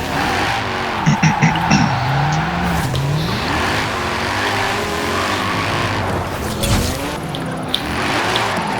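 Engine revving and tires squealing as a BMW M4 slides through a drift in Forza Horizon 4, loud and close, with pitch sweeping up and down.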